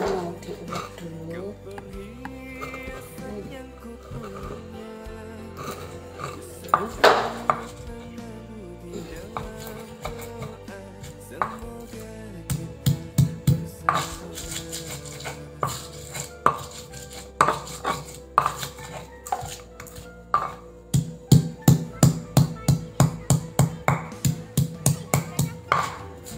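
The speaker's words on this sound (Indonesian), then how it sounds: "Ini bumbunya mau diulek dulu." Spices pounded and ground with a stone ulekan mortar while making urap with bean sprouts, with repeated hard knocks that start sparse and become a fast, steady series of loud strikes toward the end.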